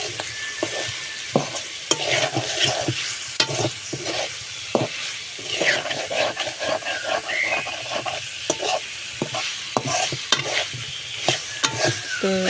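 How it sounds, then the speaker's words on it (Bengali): Prawns fried with onion in a pan, a steady sizzle under repeated scraping and stirring strokes of a spatula, close and continuous with no talk. "পেঁয়াজের সাথে চিংড়ি মাছগুলো একটু দিয়ে লাল করে নেব"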